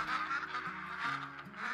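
Ducks honking and calling in the video game Call of the Wild, a steady run of nasal, goose-like honks at close to middle distance, no talk over them.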